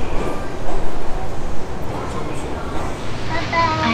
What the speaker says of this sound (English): I'm at the train station now. I'm waiting for my Rapido train to go to the airport.